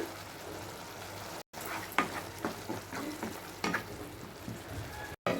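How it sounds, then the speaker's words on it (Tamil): Onions frying and being stirred in a pan for bitter gourd curry, a steady crackling sizzle with scraping stir strokes, close and continuous, broken by two short silent gaps. "அடுத்து வெங்காயம். வெங்காயம் நல்லா பொன்னிறமாக வரட்டும்."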